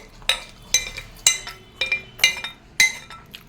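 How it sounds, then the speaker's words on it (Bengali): Cooked semolina for a baby being scraped into a bowl, a series of six sharp clinks and scrapes of a spoon against the vessel at an even pace, close and clear with no talking. "সুজিটা আমি ঢেলে নিচ্ছি ওর বাটিতে"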